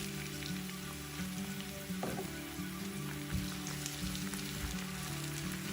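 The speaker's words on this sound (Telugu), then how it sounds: "అల్లం వెల్లుల్లి పేస్ట్ కొద్దిగా వేగాక దీనిలో 1 మీడియం సైజ్ టమాటాని ముక్కలుగా కోసి వేసుకోవాలి" Ginger garlic paste and chopped tomato pieces frying in a pan, a constant soft sizzle with scattered crackles and a few clinks, fairly quiet, close, with a low steady hum beneath.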